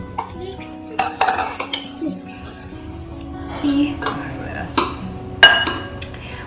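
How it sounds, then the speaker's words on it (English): Half a stick of butter and peanut butter are mixed together in a bowl for seven layer magic bars, with scraping, clinking utensil strokes and occasional sharp knocks against the bowl, close and uneven, while people talk faintly. "I'm going to put half a stick of butter. And we are going to mix that together."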